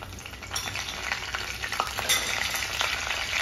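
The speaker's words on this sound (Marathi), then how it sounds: "तेल टाकलं की हे राई, मेथी आणि कढीपत्ता टाकायचे" Mustard seeds, fenugreek and curry leaves sizzling in hot oil in a kadhai for a Goan mango sasav, a loud, steady crackling fry with small popping bursts, close by and with no speech.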